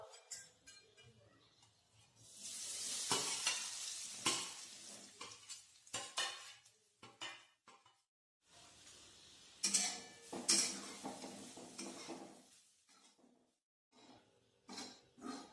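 A spatula scrapes and stirs repeatedly as ground fresh coconut fries gently in ghee, bursts of scraping separated by brief quiet gaps.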